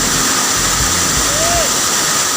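Water gushing steadily from a government well in a village, a dense broadband rush that stays constant throughout, with a brief low rumble underneath.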